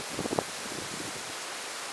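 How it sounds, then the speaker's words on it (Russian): A strong gusting wind blows outdoors in Anapa, a dense roaring rush across the microphone with a few low buffeting thumps at the start, then a steady loud wash with no voices. "Сейчас как раз дует нам в спину."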